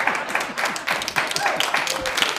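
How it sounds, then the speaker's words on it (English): Audience clapping at a live comedy-style show, a dense patter of hands heard throughout the short stretch, moderately loud and close, with indistinct voices mixed in. "Stop clapping."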